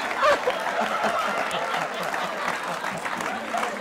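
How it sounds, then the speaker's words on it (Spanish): A TV studio audience applauds during a Peruvian talk show interview, a dense, steady wash of clapping with a few light chuckles mixed in, fairly close and continuous throughout. "Un aplauso para Mirta y para Yo Cotito."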